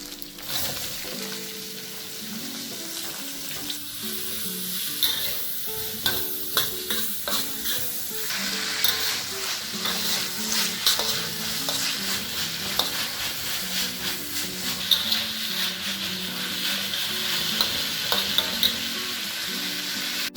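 Big onions sizzle steadily in hot oil with shrimp paste for sambal ikan bilis, a constant close frying hiss broken by the scrape and clack of a spatula stirring the pan, with no talking.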